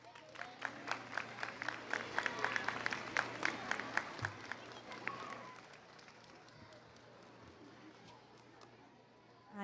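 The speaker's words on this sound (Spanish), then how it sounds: "Un fuerte aplauso para ella." An audience at a nutrition fair applauds a woman being welcomed, a burst of rhythmic clapping that starts strong and gradually thins and fades, with a voice faintly present underneath.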